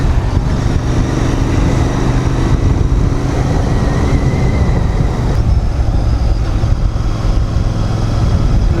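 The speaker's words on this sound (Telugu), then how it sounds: "ట్రైన్ పోతుంది పక్కన." A train rumbles past close by, a loud continuous roar of wheels and engine that stays steady throughout.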